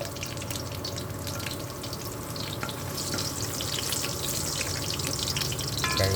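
Garlic sizzles in a hot wok, a dense steady crackle and hiss that swells slightly toward the end, with no voices.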